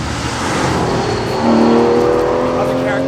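The V12 engine of an Aston Martin V12 Vantage S Roadster pulls hard with a loud, steady roar whose pitch climbs as it gains speed, heard close up.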